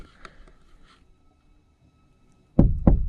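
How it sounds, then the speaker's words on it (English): At night an unseen wild animal knocks twice on the back canopy of a pickup truck, two heavy, loud thuds close together after faint earlier taps and quiet. "He's literally touching my truck. How am I supposed to get him away? He's literally knocking."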